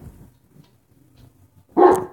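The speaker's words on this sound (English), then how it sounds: "stupid dog scared me" Dog gives a single loud, close bark after a stretch of near silence with faint low rumbling indoors.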